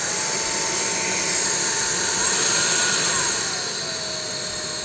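A Jimmy JV85 Pro stick vacuum switched on and running, a loud, steady high-pitched motor whine with airflow rush that rises slightly in the middle and holds level throughout.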